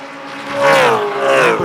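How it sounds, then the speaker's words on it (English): Lamborghini and rumbling V8 GT1 race cars at the SCCA Runoffs, engines howling with rising and falling pitch as they accelerate past, loud and close. "Lamborghini, very different exhaust note to these rumbling V8s"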